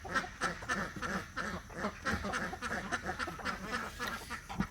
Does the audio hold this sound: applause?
no